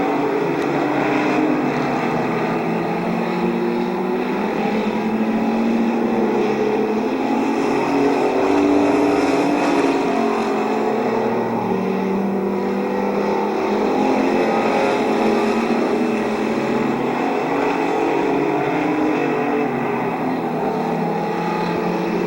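Race cars roar around the oval at Midvale Speedway during a 2012 race, a steady, loud blend of engine drone with rising and falling passes as the pack circles the track.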